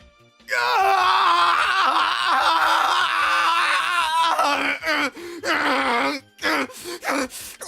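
Goku from Dragon Ball Super, an anime fighter, screams in pain on the ground: a loud, sustained wavering cry lasting several seconds, then a few shorter broken cries and gasps.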